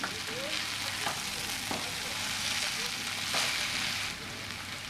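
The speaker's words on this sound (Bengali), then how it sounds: "দিয়ে এবার আমি এগুলিকে নাড়াচাড়া করে ভেজে নেব।" Fried vegetables tossed with Maggi masala for chicken noodles sizzle loudly in a hot pan, with a steady hiss broken by several sharp scrapes of the stirring spoon, close and without talk.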